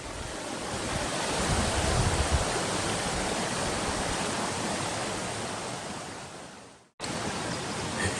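Heavy rushing water beside a mountain wilderness trail in the Comanche Peak Wilderness, a loud, steady broadband roar close by that cuts out for a moment near the end and then returns.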